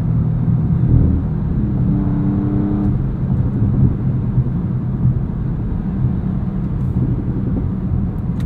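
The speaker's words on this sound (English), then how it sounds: "That initial launch is so powerful." A 2023 Audi S6 engine pulls hard from a launch, a steady loud rumble with a brief rising harmonic whine early on before settling into constant road drone.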